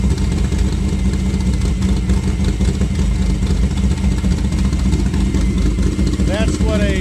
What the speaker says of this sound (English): That's what a badass Studebaker engine should sound like.